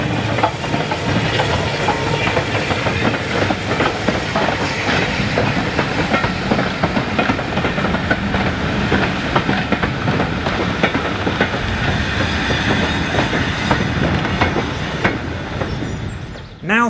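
Steam locomotive 34072 257 Squadron, a 1948 Brighton-built Southern Railway Battle of Britain class, runs tender first into Corfe Castle during the Swanage steam gala, giving a loud, continuous close rumble of wheels and clanking rolling stock with steam hiss.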